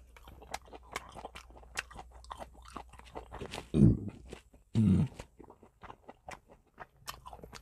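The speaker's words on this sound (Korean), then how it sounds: "조금만 먹겠습니다" Someone eating kimchi jeyuk chews and crunches close to the mic in quick, irregular bites, with two louder low thumps in the middle and no talking.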